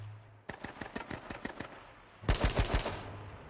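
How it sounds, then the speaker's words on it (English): Rapid bursts of AK rifle fire in a battle royale video game, a quick string of sharp shots followed by a louder, denser burst, with no talk over them. "Civil ripping AK shots on F America"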